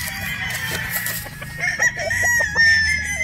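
A young Boston Roundhead rooster (broodstag) with a straight comb makes a few short clucks, then breaks into a brief, strained crow close by.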